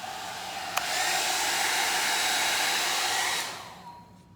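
A hair dryer blows air steadily over a Dutch pour of paint on ceramic tiles, a close, loud whoosh starting after a brief click and running about three seconds before fading away.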